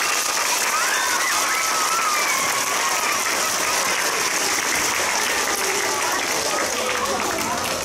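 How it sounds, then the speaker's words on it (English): Steady, sustained applause from a crowd, loud and continuous for several seconds with no pause. "a round of applause for being respectful."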